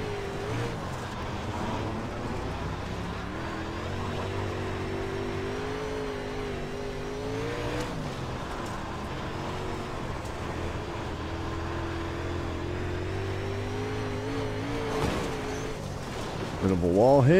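A higher-horsepower race car in the iRacing sim circles the Kern County Raceway Park oval, its engine droning steadily with shifting pitch through the laps, loud and continuous, with a scrape near the end.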